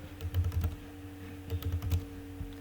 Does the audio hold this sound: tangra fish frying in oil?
no